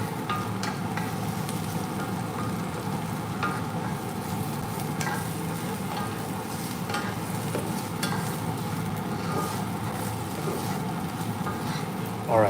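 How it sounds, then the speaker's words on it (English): Onions being stirred in a pan beside quesadillas, a low steady sizzle with soft periodic scraping strokes, fairly quiet and continuous with no talking. "we're gonna stir these"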